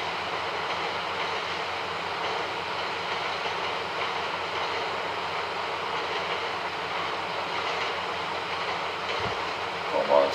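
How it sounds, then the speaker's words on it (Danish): A steady, continuous rumble of a train rolling past in the video game GTA 5, holding an even level for about ten seconds with a faint clatter near the end. "Og inden jeg når dernede, så kommer der altså en ny tog."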